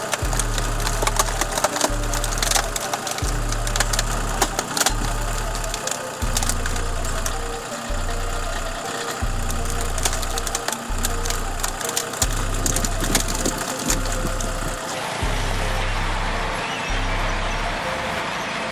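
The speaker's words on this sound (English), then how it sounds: "The CBI Chipmax 484T, with its powerful engine, excels at processing and grinding large materials." A CBI Chipmax 484T wood chipper grinds wood with a loud engine roar, punctuated by a steady series of heavy, rhythmic low thumps and splintering crackle, close by and continuous throughout.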